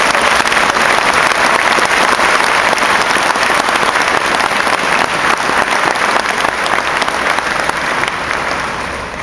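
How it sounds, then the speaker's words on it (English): Loud, sustained applause from a large graduation crowd at the VMI 2013 ceremony, honoring faculty and staff, a dense continuous roar of clapping that tapers slightly at the end. "Let's give our faculty and staff a round of applause."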